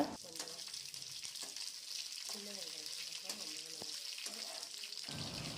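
Onions sauté in a pan for a chutney, with a soft, even sizzle running throughout and brief faint stirring sounds and scraps of voice over it.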